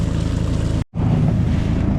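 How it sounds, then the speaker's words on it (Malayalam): A motorboat travels along a Kuttanad backwater canal in Kerala with a loud, steady, close engine drone and wind noise. The sound cuts out briefly near the middle and then resumes. "ഒരു ബോട്ട് പോയിട്ടുണ്ട്."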